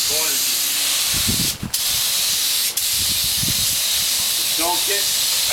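Black Widow Pettit bottom paint is sprayed onto a boat hull, a loud continuous hiss of the spray gun filling the whole clip, with brief dips and people talking quietly underneath.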